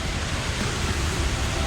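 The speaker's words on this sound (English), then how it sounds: "This is entrance waterfall." Entrance waterfall at Ruby Falls, an underground cave attraction in Chattanooga, Tennessee, heard as a dense, steady roar of rushing water filling the whole space, loud and close with no other sounds.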